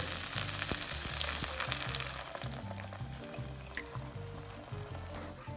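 Curry paste fries in oil with a loud, continuous sizzle close by, while a spoon stirs and scrapes the pan and a rhythmic clatter sounds in the background as coconut milk goes in.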